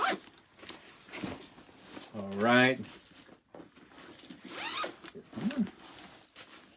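A zipper on a leather duffle bag is pulled open in one quick stroke between bursts of nearby speech, with a rustle of bag fabric.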